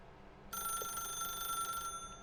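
A telephone rings in the video game The Stanley Parable, one bright electronic ring starting abruptly and sustaining for over a second before cutting off, faint and clean.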